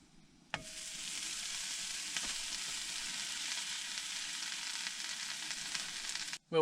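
Buttered toast sizzles in a hot skillet at a truck campsite, a steady close frying hiss that starts abruptly and holds evenly for several seconds before cutting off, with no talking.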